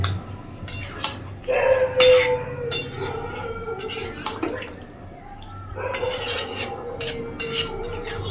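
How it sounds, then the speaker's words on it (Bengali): Chicken kosha is stirred in a cooking pot, then covered. A spoon scrapes and clinks against the metal in irregular bursts over a low background hum, with close, clattering knocks toward the end. "এইবার সব কিছুকে সুন্দরভাবে মিশিয়ে দিয়ে মিনিট 10 এইভাবেই ঢাকা দিয়ে রেখে দেব"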